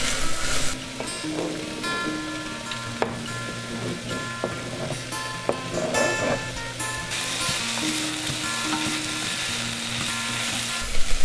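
Onions frying in a salted pan while being stirred, giving a steady bright sizzle throughout with a constant low hum underneath and occasional scraping clicks from the stirring.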